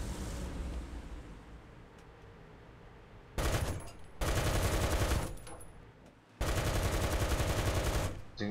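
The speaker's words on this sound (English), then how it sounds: "Using my machine gun to mark it." Bursts of heavy machine-gun fire from a tank in War Thunder, three long sustained rattling volleys separated by short pauses, loud and close over a low engine rumble.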